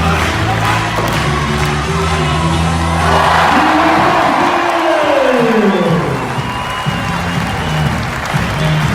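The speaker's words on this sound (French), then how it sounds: "applaudissements à Cléopâtre, Carole, Astrid, Edouard et Alison Pire" An audience applauds and cheers at a French show, a steady wash of clapping and crowd noise throughout with some voices and a tonal sweep mixed in.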